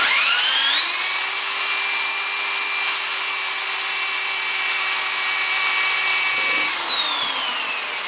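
A Lister D lighting plant alternator spins in a lathe chuck, its whine climbing quickly in pitch, holding a loud steady tone for several seconds, then sliding down as it winds down.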